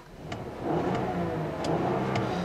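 A 2018 Volkswagen Atlas with its naturally aspirated 3.6-litre VR6 engine revs up from idle, the steady mid-pitched engine note swelling and holding, with faint ticking clicks on top.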